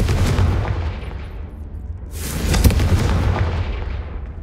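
A loud, fiery blast from the Confringo spell in Hogwarts Legacy, a heavy booming burst with a rumbling low tail that swells again midway as a second explosive wave rolls through.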